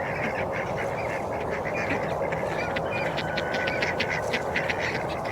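A flock of thirteen ducks and a goose on a farm quacks and honks steadily, with many overlapping calls over a dense, continuous background of fowl chatter.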